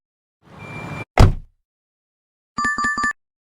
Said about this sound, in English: Sound is car door close.